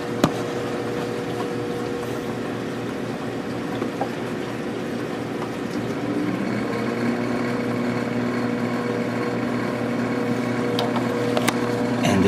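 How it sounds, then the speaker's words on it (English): Aquarium sump pump on a large 400-gallon bowfront tank straining to restart, a steady drone with gurgling water that rises slightly partway through; continuous and fairly loud, with no speech. "it's obvious that the pump's having a hard time starting back up. It is not running at full speed"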